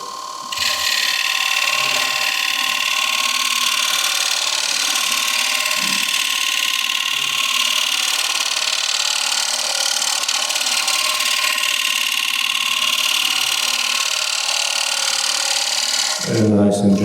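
Wood turning on a lathe gives a continuous bright scraping hiss as a tool cuts a bead into the spinning workpiece. The cut holds steady for about sixteen seconds, then stops with a short low thump.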